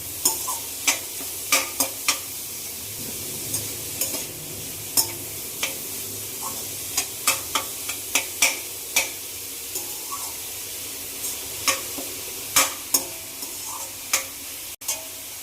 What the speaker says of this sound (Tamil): கொஞ்சம் கோல்டன் ப்ரௌனாக கொஞ்சம் வதங்கணும்.